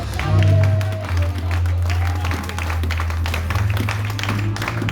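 Church congregation applauding and acclaiming during a sermon, a dense continuous wash of clapping and crowd voices with a steady low musical drone underneath, fairly loud throughout.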